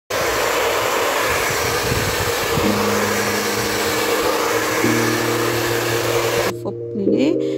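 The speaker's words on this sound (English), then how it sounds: "Then I'm going to blow dry it into four parts, because doing it alone you can't do the whole head." A handheld hair dryer blowing hair dry, a loud continuous close-up roar that cuts off near the end, with faint tonal hums underneath and no clear talking.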